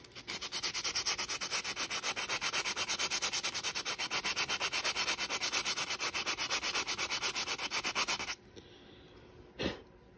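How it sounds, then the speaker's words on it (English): Steady rhythmic sanding strokes on a glued Wookiee lip lift mechanism part, close and loud for about eight seconds, then stopping, followed by a brief knock. "Sand the other side."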